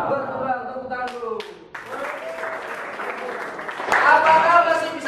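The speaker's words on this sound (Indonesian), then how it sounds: "Tepuk tangan dulu." Clapping in a classroom, following a teacher's spoken prompt: after a voice speaks briefly at the start, a group of students claps steadily, growing louder and denser toward the end.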